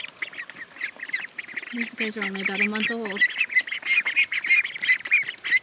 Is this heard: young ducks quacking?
yes